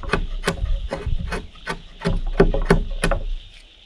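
A sharp chisel shaves wood on a dovetail log for a log cabin build, a series of about a dozen short, rhythmic scraping strokes, close and fairly loud, with no talking.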